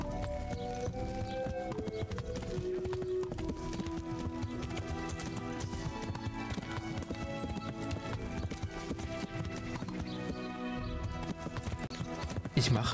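A horse's hooves clip-clop in a steady, continuous rhythm as it is ridden in the medieval game Kingdom Come: Deliverance, with a voice talking over the hoofbeats.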